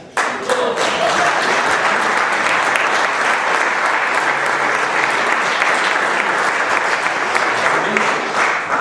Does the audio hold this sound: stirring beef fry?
no